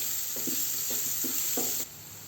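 Onions sizzling steadily in a pan for a Maharashtrian veg thali, with a few soft stirring scrapes at intervals before the sizzle drops a little at the end.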